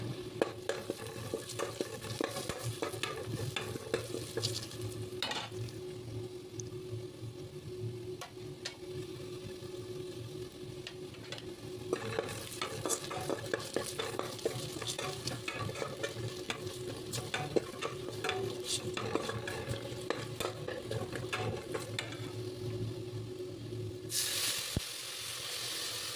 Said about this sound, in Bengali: পেঁয়াজ ভেজে নেওয়া লাগবে